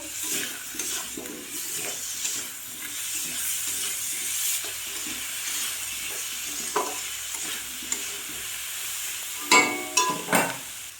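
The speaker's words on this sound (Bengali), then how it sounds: "এবার দেবো আদা রসুন বাটা দিয়ে ওটাকে আমি কষবো" Ginger-garlic paste fries and is stirred in a pan while cooking masoor dal khichuri, giving a steady sizzle with soft scraping strokes and louder clatter near the end.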